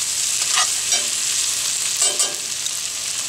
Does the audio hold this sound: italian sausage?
yes